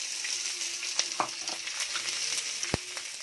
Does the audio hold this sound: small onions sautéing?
yes